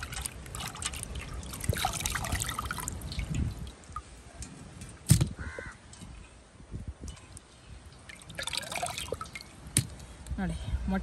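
Water drips and trickles as a large ribbon fish is washed at a beach-side cooking spot, with irregular splashes and dribbles in the foreground against outdoor background noise, including one sharp knock midway.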